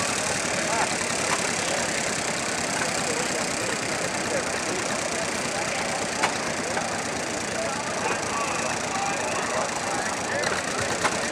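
A John Deere 420 crawler tractor drags a weighted pulling sled at an outdoor tractor pull in Apache Junction, Arizona, its engine a steady, loud broadband drone that runs unbroken throughout, mixed with crowd and sled noise.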